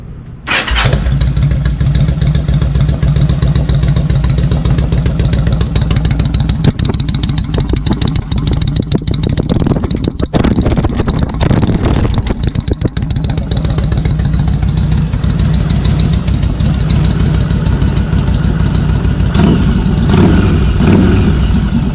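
A Yamaha motorcycle engine starts with a sharp crank and settles into a loud, steady, close idle that runs throughout with slight rises in pitch, no talking.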